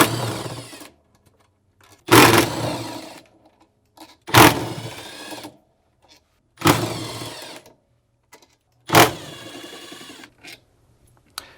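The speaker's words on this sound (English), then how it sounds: "Now remove the 5 stator bolts with a 10mm socket." A power tool with a 10mm socket spins out the stator bolts on a Samsung washing machine, model WA456DRHDWR/AA, in five loud, separate bursts of whirring with quiet pauses between them.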